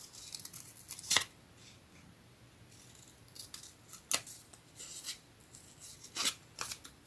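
Scissors snip through paper card while a purple monochrome greeting card is made by hand, giving a few sharp, close cuts separated by quiet rustling and handling.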